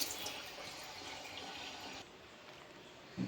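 About 750 grams of unripe jackfruit is washed under a running tap. A soft, close water flow hisses for a couple of seconds, then quietens, followed by a brief splash or knock.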